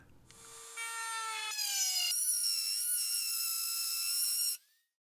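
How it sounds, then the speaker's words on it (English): A Dremel rotary tool spins up to a high, whining pitch and steps higher as the V-groove router bit cuts into MDF along a straight edge guide, loud and close, then winds down abruptly. "Here I've installed a V-groove bit, and we're once again going to run it with the straight edge guide"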